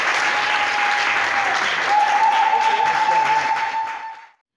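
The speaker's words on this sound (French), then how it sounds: "Ça s'applaudit." Applause from a crowd gathered at a football tournament equipment handover ceremony in Logoualé, sustained and loud, with a steady tone ringing underneath, before cutting off abruptly at the end.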